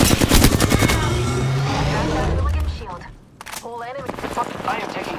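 Apex Legends gameplay: automatic weapon fire rattles in loud, rapid bursts up front, then gives way to in-game character voice callouts and softer battle noise.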